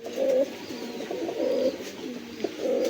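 A male Indian Mumbai pigeon coos repeatedly, close and clear, with a steady rhythm of soft throaty coos over about three seconds.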